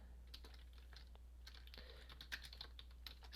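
Rapid clicking of computer keyboard keys while Python Flask code is typed, an uneven run of light, close taps over a steady low electrical hum, with no talking.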